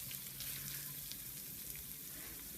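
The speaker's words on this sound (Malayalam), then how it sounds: "നമ്മൾ നിങ്ങൾക്ക് കാണാൻ പറ്റും നന്നായിട്ട് വറുത്തെടുക്കുന്ന ആ രീതിയിൽ തന്നെയാണ് ചിക്കൻ" Chicken pieces frying in a pan for dry chilli chicken, a soft steady sizzle with light crackles and occasional stirring, faint and close with no talk.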